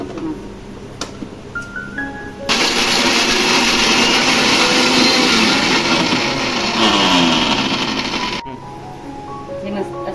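A mixer grinder whirs loudly through a paste of coriander, ginger, green chili and garlic, running steadily for about six seconds before cutting off, with quieter kitchen sounds and someone speaking Marathi before and after.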